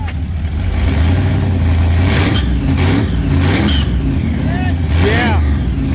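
A supercharged Chevy 383 small block in a third-generation Camaro IROC-Z28 revs hard, a loud, close, rumbling roar with rising and falling throttle blips, while people talk over it.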